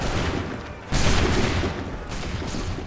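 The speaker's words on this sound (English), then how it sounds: "Open fire!" Musket volley gunfire in Assassin's Creed III: two loud, dense bursts of many muskets firing together, the first after a short pause and the second about a second later, each trailing into a rumbling roar.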